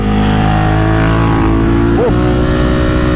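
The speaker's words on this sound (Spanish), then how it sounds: "los motores de Ducati se sienten muy briosos" A Ducati Monster 937 motorcycle engine runs loud and close during a road test, holding a steady buzzing drone with a brief rise in pitch partway through.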